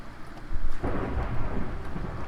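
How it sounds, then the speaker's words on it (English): Thunder in the Minecraft video game, a loud deep rumble that swells after a brief quiet start and rolls on steadily over a soft rain-like hiss, with no talking. "Of course it starts thundering."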